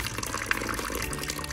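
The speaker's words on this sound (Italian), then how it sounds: "E ora tutto questo lo andiamo a mescolare con un po' di acqua" Water is poured into a mixture to thin it toward a pudding-like cream, making a steady, close splashing and trickling with no talk.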